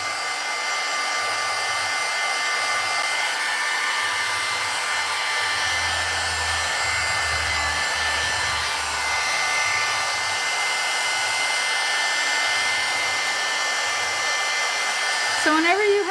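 A heat tool blows steadily at close range, drying the back of an embossed card. A loud, continuous whirring hiss runs unbroken throughout, with no voice present.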